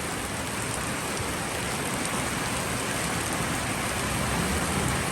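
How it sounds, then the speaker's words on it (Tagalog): Steady rain pours onto an asbestos roof, a dense, even hiss of countless drops drumming without pause, close and fairly loud throughout. "Ang asbestos po ay hindi maingay pag bumaksak ang ulan sa ating pong pinanggalingan."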